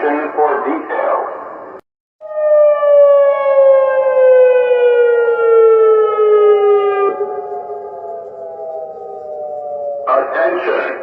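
Civil defense tsunami warning siren sounding in Kodiak, Alaska after an earthquake, a loud, sustained wailing tone with rich harmonics that slowly falls in pitch, bracketed by a spoken public-address announcement before and after.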